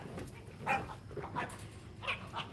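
Dogs give a few short barks and yips spaced over a couple of seconds, close by and moderately loud, over a quiet background with no talking.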